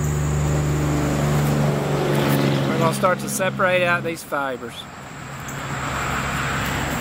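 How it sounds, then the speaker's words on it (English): Trucks rumble past a driveway as a loud, steady low drone through the whole stretch, with someone talking over it while working poplar bark fibers by hand. "Sorry for the truck noises."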